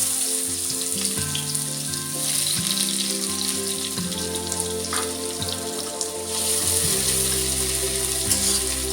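Onions and chillies frying in a pan, a continuous crackling sizzle up close with bubbling, watery spits and a few clinks, no talking over it.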